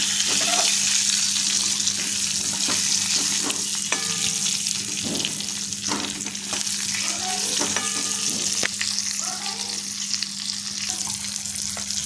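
Eggplant pieces pan-roast in plenty of oil, a loud continuous sizzle and crackle with a steady hum beneath, broken by scraping and clacking as a spoon stirs the pieces around the pan.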